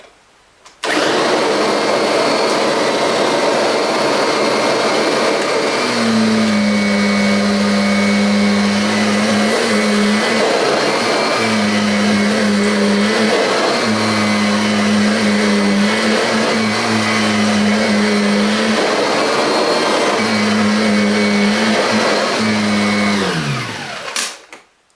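A loud Kirby upright vacuum cleaner whirs steadily for over twenty seconds while picking up sand, its motor pitch dipping rhythmically as it is pushed back and forth, then it winds down.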